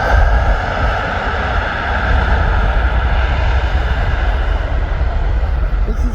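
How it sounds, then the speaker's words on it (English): Loud, steady roar of a Turkish Airlines jet taxiing and turning at Birmingham Airport, heard close with constant engine drone and no breaks. "Turkish is now turning in Birmingham."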